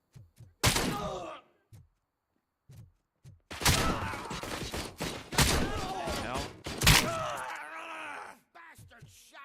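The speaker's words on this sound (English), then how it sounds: "Bastard shot me." Gunfire in the Robocop game, several sharp booming shots and heavy impacts in quick bursts, with a man groaning and pained voice sounds mixed between the blasts.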